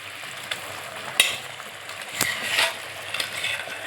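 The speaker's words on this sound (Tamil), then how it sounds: "இப்போ சர்க்கரை பாகு ரெடி ஆகிடுச்சு. அதில் நான் இப்போ இந்த பூசணிக்காவை சேர்த்துக்கிறேன்." Pumpkin pieces going into hot sugar syrup for Agra petha, giving a steady close sizzle with a few sharp clatters and splashes as they drop into the pan.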